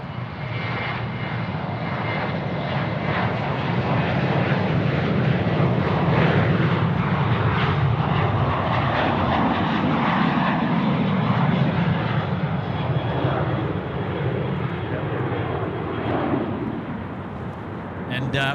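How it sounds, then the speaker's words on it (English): A Velocity flight to Melbourne rolls for takeoff at Sydney Airport, its jet engines building into a loud, sustained roar that holds for many seconds before easing, with a person talking over it. "And here we go with our flight off to Melbourne now, rolling."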